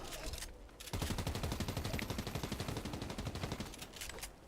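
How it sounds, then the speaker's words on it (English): Rapid, sustained SMG fire from a battle-royale video game rattles out in a dense, loud burst lasting several seconds after a brief lull, breaking down player-built structures. "we see the SMG in action there, tearing down some builds"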